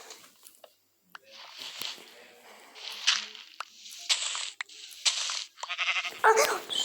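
Several short Minecraft sheep bleats, repeated irregularly, with soft footstep-like pattering and light clicks between them.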